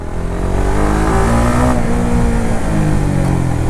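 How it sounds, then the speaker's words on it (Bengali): Exhaust of a 2021 Honda CBR 150R motorcycle just after starting, a loud, close, steady engine drone with a rich low rumble, holding on with slight swells and no voices. "প্রথমত বাইকটা স্টার্ট দেওয়ার পরে, গিয়ারে ফেলার পরে, মানে স্টার্ট দেওয়ার পরে এক্সস্টের যে সাউন্ড"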